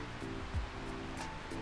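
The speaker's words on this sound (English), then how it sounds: "I love the waterfall features." A waterfall feature beside the jacuzzi of a luxury mansion in Plano, Texas, gives off a soft, continuous rush of falling water, faint and even throughout with only a low hum underneath.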